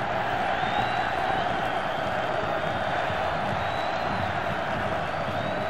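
A large football crowd cheers and sings at Castelão stadium during Fortaleza against Flamengo in the 2005 Brasileiro. The roar is steady and sustained, and a commentator speaks faintly underneath it.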